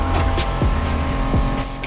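A 1990s Honda NSX sports car in the racing game The Crew Motorfest revs hard, its engine note climbing then dropping twice as it shifts gears, loud and close with a faint tire hiss.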